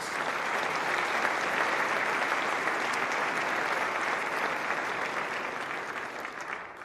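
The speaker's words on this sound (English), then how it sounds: "Can we have a nice round of applause for our sponsors?" A steady, full round of audience applause at a Milwaukee mayoral debate luncheon, dense continuous clapping that holds at an even level before easing slightly at the close.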